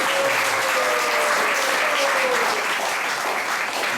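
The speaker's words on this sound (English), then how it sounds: "Let's give a round of applause for this wonderful devotees." Devotees at an ISKCON temple in Atlanta during a Sunday Snan Yatra fill the hall with loud, continuous applause, dense overlapping clapping holding steady throughout.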